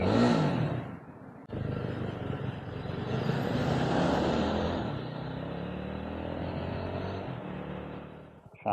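A BSA Bantam 350 motorcycle pulls away in first gear through town traffic, its engine note rising steadily as it revs up after a short drop, loud and close for several seconds.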